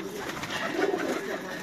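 A racing pigeon at a champion loft in Dubai coos softly and steadily, mid-distance, over a dense background of other birds with faint voices.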